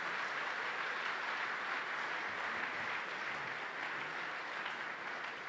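A church congregation at a Paris conference claps steadily in sustained, even applause that fills the whole stretch without a break, with no voices rising above it.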